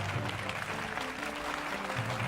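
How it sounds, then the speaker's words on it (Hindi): An audience at a dance competition event applauds to welcome a judge, a brief burst of steady clapping heard from the hall at moderate distance. "त्रिभुवन मास्टर जी का जोरदार तालियों के साथ स्वागत कीजिए।"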